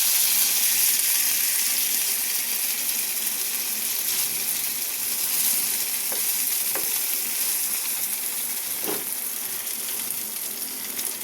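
Boiled Maggi noodles dropped into hot oil fry with a loud, steady sizzling hiss throughout, with a few faint scraping stirs, close up and without speech.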